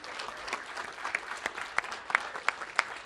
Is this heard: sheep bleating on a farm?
no